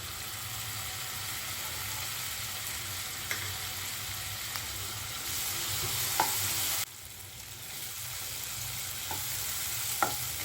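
Tomatoes and onion pieces fry in a pan with turmeric, giving a steady broadband sizzle throughout, with a few light clicks from stirring and a slight drop in level partway through; no talking.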